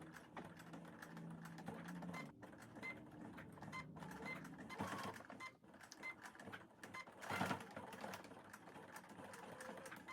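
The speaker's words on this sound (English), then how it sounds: "and then we're going to do an edge stitch" A home sewing machine runs a steady edge stitch along a strap on a handmade banana-style bag, its motor hum and needle chatter continuous and fairly quiet, with brief pauses and some handling noise.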